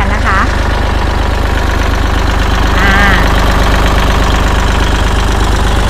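A used Kubota L3608 tractor engine idles loudly and steadily at close range, a continuous low diesel rumble with a rapid knocking pulse, while someone speaks over it.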